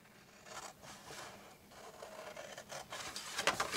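Paper is cut up into pieces for a stemless wine glass gift box, giving faint, soft rasping and rubbing strokes that slowly grow louder toward the end, with no voices.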